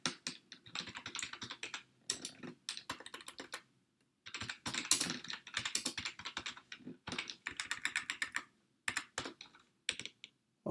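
Rapid, close clicking of computer keys comes in bursts separated by short pauses, crisp and fairly quiet, with no talking.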